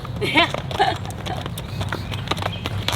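Hooves of a ridden horse clip-clop in a steady walking rhythm, close and fairly loud, with people talking over the footfalls.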